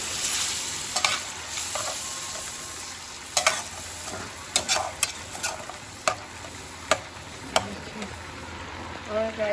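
A tomato, green chili and onion paste masala sizzles and fries in a pan, a constant close hiss broken by sharp scrapes and taps of a spoon as it is stirred.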